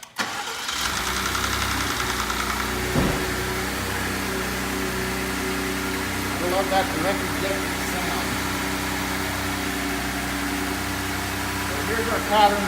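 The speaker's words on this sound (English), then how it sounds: "now we're going to start the vehicle" Car engine cranks and starts, then settles into a steady mid-pitched idle with slight knocking and irregular pulses, heard close throughout while someone talks over it.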